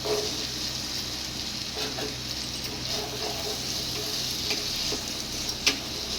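Boiled chickpeas frying in masala and being stirred, a steady dense sizzle throughout with faint scraping from the spoon.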